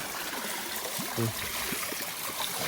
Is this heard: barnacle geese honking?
no